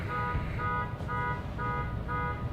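A car alarm sounds repeated pulsing electronic tones in an even rhythm outdoors, moderately loud and a short distance away, over a low rumbling background.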